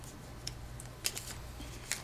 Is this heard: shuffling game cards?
yes